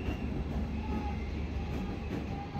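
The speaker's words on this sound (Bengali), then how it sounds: "সামনে থেকে আরেকটা ট্রেন আসছিল" A passenger train pulls into Gulma station in a forest setting, its steady low rumble and rolling wheels running continuously under faint background noise.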